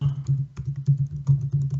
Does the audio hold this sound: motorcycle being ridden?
no